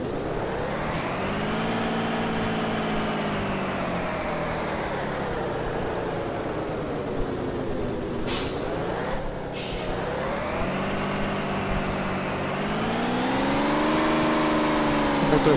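In the OMSI 2 bus simulator, a Thamco 1315 bus engine drones and strains uphill, its pitch rising and sagging over a long steady pull, with two sharp air-brake hisses partway through.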